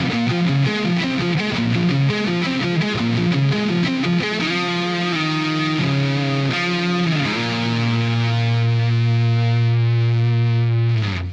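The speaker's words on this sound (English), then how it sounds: "this one takes advantage of the delay and reverb pedals" Distorted electric guitar through delay and reverb pedals plays a fast, busy lead line with echoing delay repeats and reverb, then settles into long sustained notes, loud and continuous.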